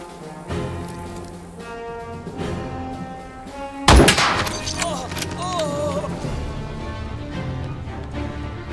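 A single sharp, loud gunshot from the Jagged Alliance 3 video game cracks out midway, standing above steady game music and a murmuring background voice before the scene settles back.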